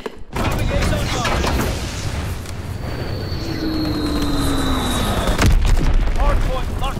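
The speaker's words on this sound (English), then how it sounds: "Dropping Azon bomb." Azon bomb whistling down and exploding in Call of Duty WWII Hardpoint multiplayer, a long falling tone ending in a loud blast, amid steady gunfire, rumbling battlefield noise and radio-style game announcer voice.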